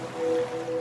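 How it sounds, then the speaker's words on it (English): Ocean wave sound effect from a radio advert, a steady soft wash of surf with a faint tonal hum running through it, continuous and moderately quiet throughout. "now you're drifting asleep to the scent and sound of waves"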